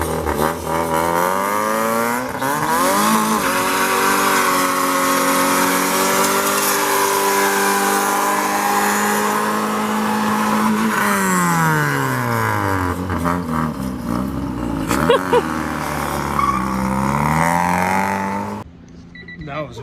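A turbocharged Honda Civic revs hard while drifting with the e-brake pulled, its loud, close engine note rising and falling in sweeping pitch changes across the run before cutting off abruptly near the end, with voices over it.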